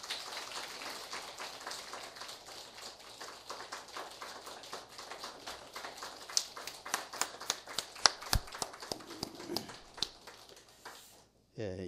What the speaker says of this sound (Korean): 우리 축하의 박수를 힘차게 해드립니다